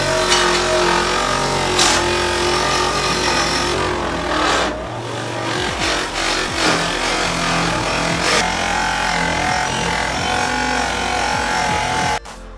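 A bench polishing wheel spins against stainless steel motorcycle exhaust tubes, a loud steady motor whine with grinding texture and brief dips as the work is shifted, with nobody speaking.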